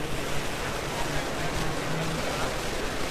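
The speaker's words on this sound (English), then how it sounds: "Very windy day. Wind now blowing from right to left in Kansas City." Wind blows steadily across a Kansas City ballpark during a Blue Jays–Royals baseball game, a continuous broadband rush like surf with no clear gusts, filling the whole stretch without talk.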